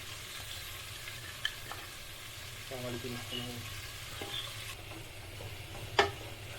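Salt and ginger garlic paste stirred in a frying pan while crab biryani is cooked, a soft steady sizzle with a few scraping spoon knocks and one sharper clack near the end.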